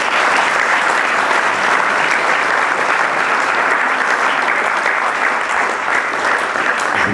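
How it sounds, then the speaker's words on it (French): Sustained, loud applause from a festival awards ceremony crowd at FIFIGROT 2019, a thick, even wash of many hands clapping without pause. "je pense qu'on peut les applaudir"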